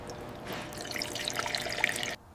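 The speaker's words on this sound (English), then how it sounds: "Pouring in fresh, golden oil. The lifeblood of the V8 is restored." Fresh golden motor oil poured into a V8 engine on an abandoned safari jeep, a steady liquid trickle and splash lasting a couple of seconds before stopping abruptly.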